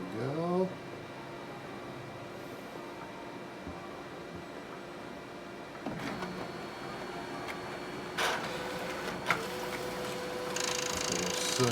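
An iColor 5 printer draws in a toner transfer sheet and processes it, giving a steady mechanical hum and whir with rolling shifts and clicks as the feed changes partway through, close and continuous with no talk.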